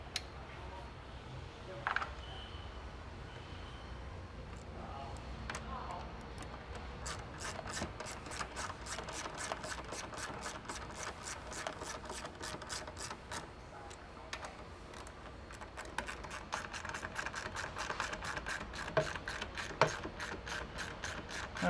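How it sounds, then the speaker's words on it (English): Steady rapid clicking of a hand ratchet tightening the two bolts that hold a brake light on a Prado 150 / GX 460, close and continuous with brief pauses in a quiet setting. "we reinstall these two bolts that hold the brake light in."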